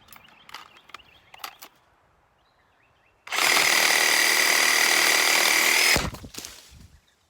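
A Dewalt 20v reciprocating saw fitted with a 12-inch Diablo carbide blade cuts through a tree limb outdoors: a loud, steady buzzing rasp lasting about three seconds, framed by light footsteps and handling noises before and after.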